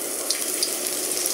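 Vegan food with lemongrass frying in a pan, a steady close hiss and crackle of sizzling oil throughout, with small spatters.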